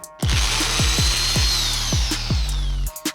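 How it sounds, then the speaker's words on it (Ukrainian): An electric drill spins at high speed into soft wood or plastic, giving a loud, close, steady high whine broken by a regular series of thumping pulses, with no talking. "м'які матеріали, дерево чи пластик потребують високих частот обертання свердла"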